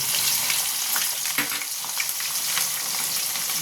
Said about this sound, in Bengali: এরপর আমি এটাতে আদা বেটে রেখেছিলাম, আদা কাঁচা লঙ্কা, সেটা দিয়ে দেবো।